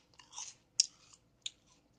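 Someone close to the mic chews Cheetos Sweetos caramel flavored puffs, producing a few soft crunchy bites and crackles spaced apart in a quiet room.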